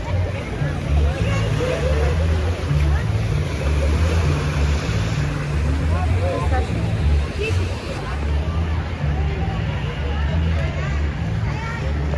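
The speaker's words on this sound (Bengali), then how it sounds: "স্পিড বোট করে না, এটা ট্রলার করা" A trawler's engine drones low and steady on open sea, blending with wave wash and wind as people talk over it throughout.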